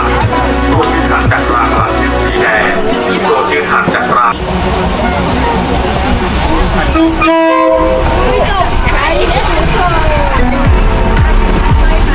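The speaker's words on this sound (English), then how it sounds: "looking forward to the train coming" A train horn toots amid a loud, busy crowd of voices at a Bangkok market the train runs through, with rumbling rail noise and market bustle throughout.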